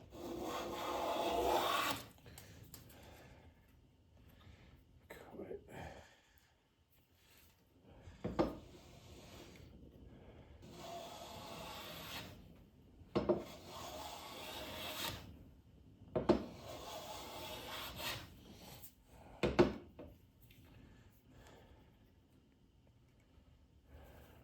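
A Stanley hand plane takes shavings off wood in a series of faint, scraping strokes spaced a few seconds apart, with quiet pauses between them.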